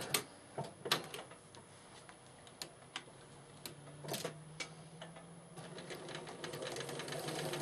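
A sewing machine stitches during free-motion quilting, heard as quiet irregular bursts of rapid mechanical ticking with short pauses between runs, fairly close and without talk.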